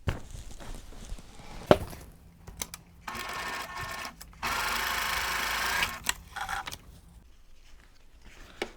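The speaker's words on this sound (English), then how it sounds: "do one quick pin and then go ahead and stitch." Sewing machine stitching pieced quilt block fabric, short bursts of rapid mechanical whirring separated by pauses, with light handling clicks and rustles between runs, fairly quiet and close.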